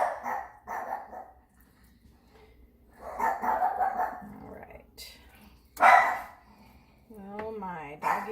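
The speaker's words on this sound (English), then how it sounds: "Doggies are going crazy." Dogs bark in several bursts, mid-distance and fairly loud, as soft talk carries on in a home kitchen.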